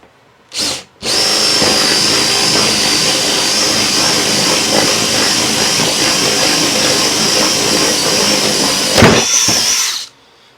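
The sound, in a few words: drilling a one-inch hole in wood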